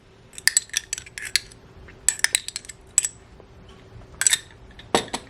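Fruit spread being spooned into a salad bowl for a cherry chicken salad: a series of sharp metallic clinks and scrapes of a spoon against the bowl, close and in irregular bursts with short pauses between them, ending in a louder knock.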